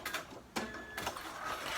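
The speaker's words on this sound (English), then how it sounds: "I'm going to sew straight down. I'm just going to sew straight off the end" A sewing machine stitches straight down fabric for a zip pouch, a faint run of short mechanical bursts with brief pauses between them.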